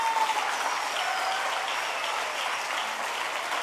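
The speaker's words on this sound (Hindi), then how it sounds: "तालियां नहीं रुकनी चाहिए।" Audience applause welcoming Mrs Rupal onto the stage at a DXN women's wellness and empowerment event, with steady dense clapping throughout and faint whistles above it.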